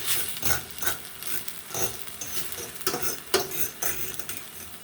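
Yellow vegetable rice popping and sizzling in a pan, with a soft steady fry punctuated by irregular sharp crackles and a few louder pops, close and fairly quiet, no talk.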